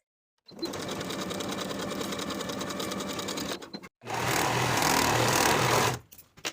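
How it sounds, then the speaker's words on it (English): A sewing machine stitches a half-inch seam on a jumper's fabric in two loud, close, continuous runs of about three and two seconds, with a brief stop between them. "Sew together with a 1/2 inch seam allowance"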